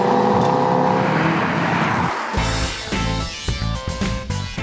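A 2015 Audi TT Coupe with a turbocharged four-cylinder and quick-shifting six-speed dual-clutch gearbox, its engine and exhaust roaring loudly under hard acceleration, then briefly cutting off before pulsing through rapid gear-change bursts.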